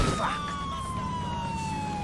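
Ambulance siren in GTA IV, a steady, loud continuous wail with a gradually falling pitch that carries through the whole short stretch, alone without talk.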